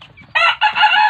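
Native chickens on a farm, with a rooster letting out a loud, close crow in two bursts over soft background clucking.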